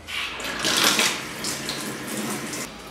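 Water pouring steadily into a bath to soak a salted wild boar ham leg, a loud, continuous splashing rush close by with slight surges and no talking.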